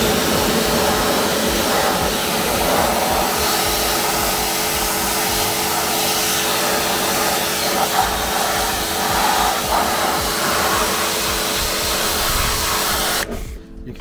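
A power washer on its maximum setting blasts car alloy wheels with a loud, steady, broadband hissing roar that runs nearly unbroken for about thirteen seconds, then cuts off abruptly.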